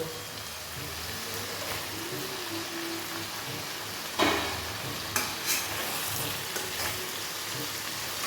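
Boal fish fry in spiced oil in a pan, giving a steady, close, dense sizzle with a few sharp clinks and scrapes of stirring. No one speaks.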